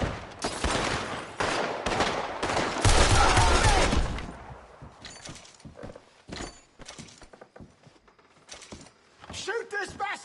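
Gunfire in Red Dead Redemption 2 crackles in a dense burst of rapid shots, then thins into scattered single reports and clattering, with voices shouting over the fight.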